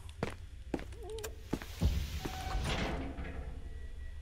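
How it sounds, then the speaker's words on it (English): Footsteps and doors opening in the SCP Foundation video game: scattered thuds, knocks and a sliding, creaking door sweep, all quiet and irregular, with no speech. "I heard somebody walking and opening doors"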